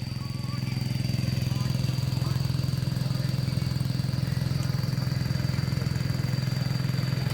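A tractor ploughs a rice field, its engine making a steady, close, throbbing low drone that runs without a break throughout.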